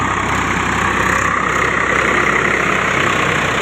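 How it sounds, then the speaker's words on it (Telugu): A tractor drives a rotavator through a paddy field being prepared for rice planting, with leaves worked into the soil. Its engine runs with a steady, even drone at close range. "ట్రాక్టర్ రోజు రొటేటర్ కొడుతుంది."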